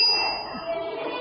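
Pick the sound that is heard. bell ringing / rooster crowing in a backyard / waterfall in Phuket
bell ringing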